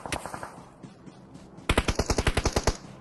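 Gunfire in the video game PUBG on the Sanhok map: a burst of rapid automatic shots, a short lull, then a louder, tight volley of about a dozen sharp, evenly spaced reports that sound close.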